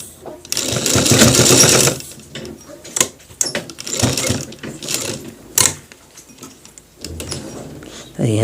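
Sewing machine stitching a shirt collar, running in loud close bursts of rapid mechanical whirring and clicking, starting with a long run and then shorter stop-start runs, while someone talks over it.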